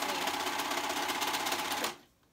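A serger overlocks fabric for a flounce tee in one short, steady burst of fast mechanical whirring, close and clear, before stopping abruptly.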